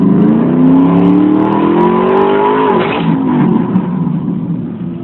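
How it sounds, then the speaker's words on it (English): The engine of a truck from a 1979 Trans Am project roars loudly through a burnout, holding a high revving drone that rises, then drops sharply before settling into a rough, lower rumble. "My dad decided to show off and do a burnout"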